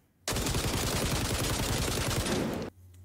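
Rapid fire barrel weapon test in XDefiant, one continuous loud burst of very fast automatic fire lasting over two seconds, starting and stopping abruptly, alone with no talk.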